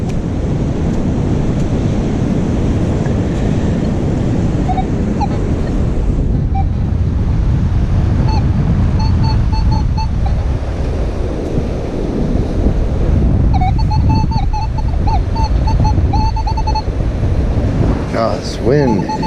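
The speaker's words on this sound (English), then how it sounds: "This wind." Strong wind buffets the microphone on a beach during a hurricane, a constant loud roar with surf mixed in throughout and faint metal detector beeps at times.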